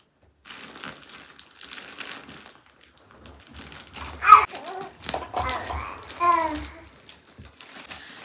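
Cellophane crinkling while a package is unboxed, bursts of crackly rustling close by, interrupted by people talking and a voice.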